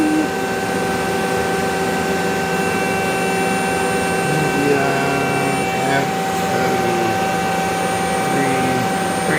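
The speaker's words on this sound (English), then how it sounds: "Can you take the spindle up to max RPM?" A Mazak QTN-100P CNC lathe spindle whirs steadily near its top speed, a continuous loud machine drone with fixed whining tones and no audible talk.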